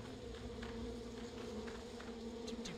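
In the video game Barnyard, a swarm of bees drones past with a steady, low buzzing hum, quiet and continuous, with a few faint chirpy game effects near the end.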